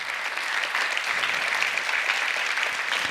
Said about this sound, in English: give Brian a round of applause, man.